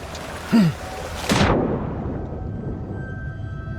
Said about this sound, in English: Still want to try this pistol out.